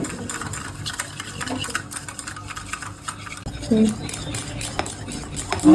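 Quick, rhythmic scraping and clinking as coffee and sugar are beaten by hand with a spoon, continuing steadily throughout.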